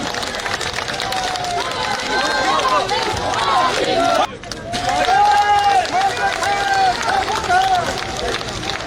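A large crowd at a political rally claps and cheers, a dense, loud roar of applause and shouting voices that continues steadily, broken by one brief dip before swelling again.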